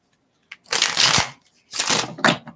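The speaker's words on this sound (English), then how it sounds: "I'm going to go ahead and shuffle and back this out, and then we'll clear the deck" A deck of tarot cards is shuffled up close during a live reading, two brisk bursts of riffling and flapping card noise separated by a short pause.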